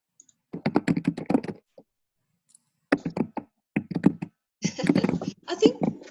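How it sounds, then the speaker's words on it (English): Bursts of rapid key clicks from nearby typing, in several short runs separated by pauses. "We can hear you typing."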